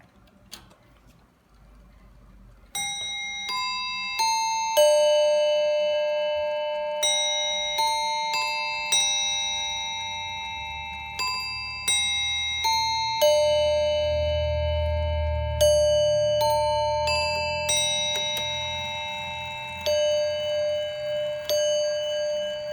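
A Seth Thomas Sonora Chime clock plays a bright, ringing melody on its bells, each struck note decaying slowly as the chime sequence runs on steadily for over twenty seconds, close and clear with no talking.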